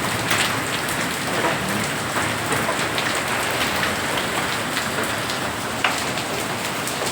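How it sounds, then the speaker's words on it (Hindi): Heavy rain with thick hailstones pounds down during a storm, a dense, steady roar of drops and hits with occasional sharper impacts standing out, loud and close throughout, no talking. "ये देखो कितनी तेज़ बारिश है।"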